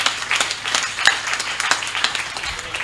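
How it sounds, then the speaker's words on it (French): A church congregation at a healing testimony service applauds with steady, moderately loud clapping that holds an even pace throughout. "Acclame très fort pour le roi des rois."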